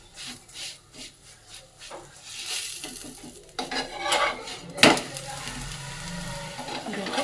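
Flatbread frying on a griddle as it is turned and pressed, with soft scraping and tapping strokes, a growing sizzle and one sharp clatter partway through, close by and unaccompanied by speech.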